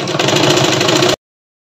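A sewing machine stitches down a length of folded cloth, running in a steady, fast mechanical rattle with a rhythmic pulse for about a second before stopping abruptly into silence.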